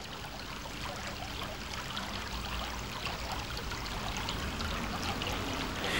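Læsåen river stream flowing through Almindingen forest on Bornholm, a steady broadband rush and trickle of water running continuously and fairly close for the whole stretch, with no voices.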